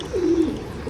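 A single pigeon gives one soft, low coo at close range, brief and throaty, against a quiet background hum.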